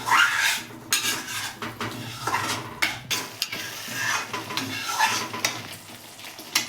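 Spices for palak paneer stirred and sautéed in a pan with a spatula, steady sizzling under repeated scraping and clinking strokes of the utensil against the metal, close and fairly loud.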